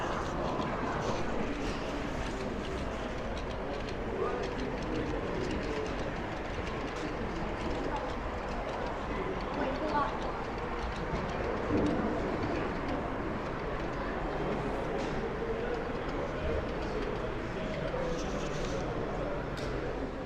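A model railway locomotive runs on a large exhibition layout, its faint rolling hum and clicking partly buried under a steady crowd murmur and hall ambience throughout.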